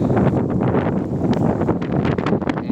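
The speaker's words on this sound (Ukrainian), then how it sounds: "бо вітер дує" Steady gusty wind buffeting the microphone in an open farm field with a dense roar, loud and close, continuous throughout with no voices.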